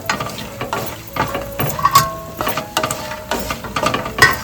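Fox nuts (makhana) fry in ghee in a pan, giving a continuous crackling sizzle with scraping stirs and light clinks of a spoon against the pan at close range, no talking.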